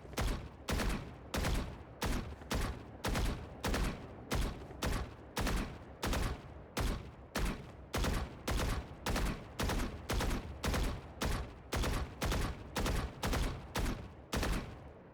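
Steady rapid gunfire from a video game deathmatch, about twenty sharp loud shots spaced in a regular rhythm over fifteen seconds, with no talking.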